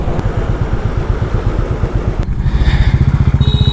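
A Royal Enfield Himalayan 450 motorcycle riding along a highway flyover, its engine thumping in a loud, steady rapid pulse with wind rush, the beat quickening slightly toward the end.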